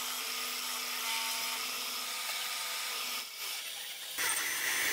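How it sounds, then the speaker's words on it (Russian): Abrasive polishing of an engine valve surface from the cylinder head of a 2007 Toyota Prado 4.0-litre makes a loud, continuous whirring rasp that barely changes in pitch, close by and with no voices. "Грубой наждачкой снимаю оставшиеся отложения. Но легкой полирую поверхность клапана."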